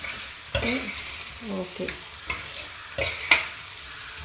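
A spoon stirs spicy chicken manchurian in a frying pan, making scattered scrapes and clacks over a light sizzle, with a brief spoken word.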